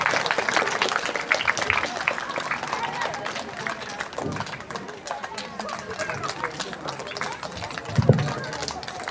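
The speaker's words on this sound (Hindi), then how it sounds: "जोरदार ताली की गड़गड़ाहट।" A crowd at a Navdha Ramayan gathering claps in sustained applause, loud and close, with someone talking over the noise.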